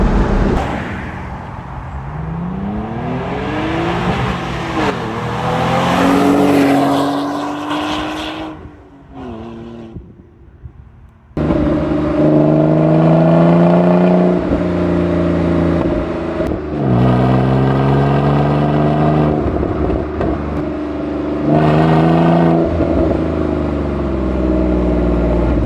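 Renault Clio V6 engine revving hard and accelerating, loud and close, with rising harmonic sweeps through gear changes, a brief lift around the middle and then sustained high-revving pulls.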